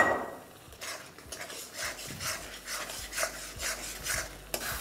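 A spoon scrapes and stirs thick vegetable masala with tomato in a pan, giving repeated soft rasping strokes and light metallic scrapes, close and fairly quiet, with no talk.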